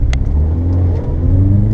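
A car engine accelerates hard on a race track at a track day at Three Sisters in Wigan, a loud, close, rising growl of engine over about two seconds.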